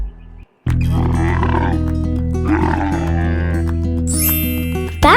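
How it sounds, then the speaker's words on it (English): A camel gives loud, groaning, gurgling bellows in two drawn-out calls over a steady musical backing, close and dominant. "Camel."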